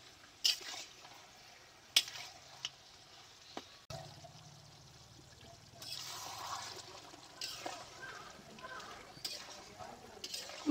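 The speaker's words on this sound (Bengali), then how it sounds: "মাংসটাকে এখন ভালো করে কষিয়ে নেব।" Mutton being stirred and sautéed in a pan for a village-style red curry, with soft scraping and a low sizzle punctuated by a few sharp clinks of a utensil, fairly quiet throughout.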